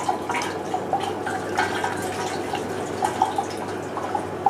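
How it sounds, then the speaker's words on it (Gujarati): Soda flavour liquid poured from a jug into the tank of a soda machine, a steady close trickle and splash with small dripping plinks, running continuously without talk. "હવે તેને આપણે જગથી આપણે એને ટાંકીને આપણે નાખીશું"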